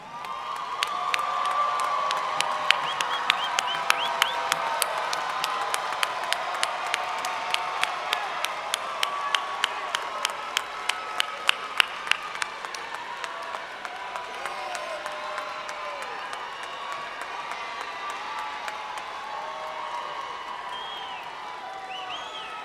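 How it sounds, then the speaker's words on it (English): Families at a Prairie View A&M summer commencement applaud and cheer for graduates, a long swell of crowd clapping with whoops and scattered sharp claps, building and then slowly tapering across the large hall. "we understand why the families cheer"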